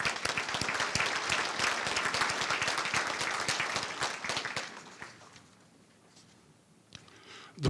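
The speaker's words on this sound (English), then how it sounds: "I think you deserve to give yourself a round of applause for that" Banquet guests at a university scholarship ring dinner clap in a lively round of applause that holds for several seconds, then thins out and fades to a few scattered claps and room noise.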